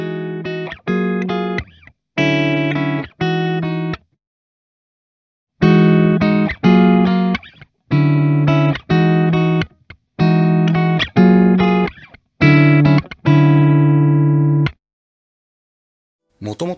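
Electric guitar played through an Origin Effects DCX Boost overdrive/boost pedal, clean and clear tone in short strummed chord bursts and phrases separated by silent gaps, close and fairly loud, no talking.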